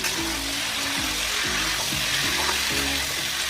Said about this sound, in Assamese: এতিয়া মই 10 মিনিট মিডিয়াম ফ্লেমত ভাজি ল'ম